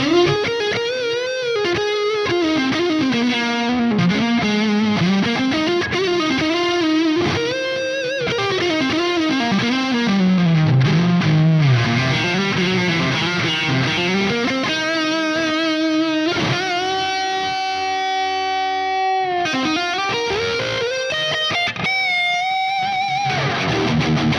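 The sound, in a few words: electric guitar with distortion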